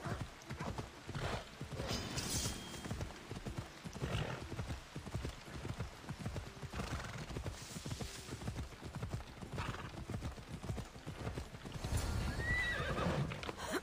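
Horse hooves clip-clop steadily in a race in Assassin's Creed Odyssey, with whinnying neighs breaking through, loud and continuous throughout, building to a fuller gallop near the end.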